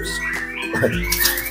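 A drongo sings at close range in a bird-training aviary, giving a brief run of clear whistled and chirping notes that rise and fall over a low background hum.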